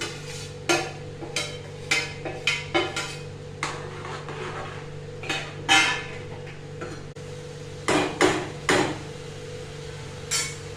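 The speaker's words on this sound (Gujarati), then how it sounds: "હવે એ ભાવનગરી ગાંઠિયા આપણે આમાં નાખી દઈએ" Hand-crushed Bhavnagari gathiya is tipped into a pan of potato sambharyu shaak and mixed. A spoon clanks against the pan in sharp, irregular knocks, with quieter stirring between them.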